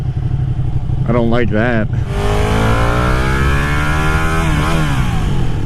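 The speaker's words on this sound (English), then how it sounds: "that sound though. That sounds glorious. And that's a stock pipe." A Ducati Panigale 959 motorcycle engine through its stock exhaust pipe, loud and close, revving up and settling into a steady roar, with a brief spoken remark early on.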